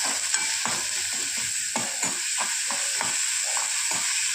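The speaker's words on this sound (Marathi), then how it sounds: "तो छान तेलावर फ्राय करून घेऊया।" Finely chopped onion fries in oil with a constant bright sizzle, and a utensil stirs it in repeated scraping strokes roughly every half second, close up, no voices.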